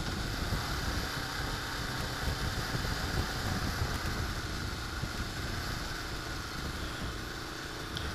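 A 1981 Honda CB750 Custom motorcycle engine runs steadily up close, a constant mid-pitched mechanical drone with no clear pauses.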